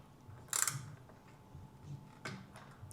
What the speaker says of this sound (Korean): 토크렌치를 이용해서 조여 보겠습니다.